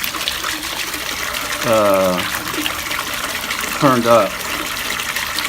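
A foam jet fountain in a small patio pond throws up a steady, full wash of splashing water that runs through the whole stretch, while a person talks over it at close range.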